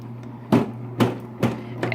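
A CatGenie self-cleaning cat litter box runs its cleaning cycle, its motor humming steadily while sharp mechanical clunks knock about every half second, close by.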